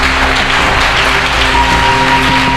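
A church congregation at a prophecy, deliverance and healing service applauds and cheers, a dense, steady roar of clapping and voices filling the room for a few seconds, with no talk over it.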